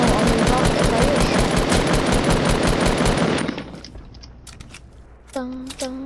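Call of Duty gunfire rattles in a fast, sustained automatic burst for about three seconds, loud and close, then cuts off, followed by a couple of brief voice sounds.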